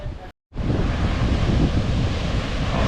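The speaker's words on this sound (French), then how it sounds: "les vagues elles sont énormes" Large ocean waves roar against the coast in Bali near the Devil's Tears rocks, a loud, continuous surf rumble mixed with heavy wind buffeting the microphone after a brief cut to silence.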